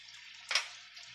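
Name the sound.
water being poured into a pot for pickled chiles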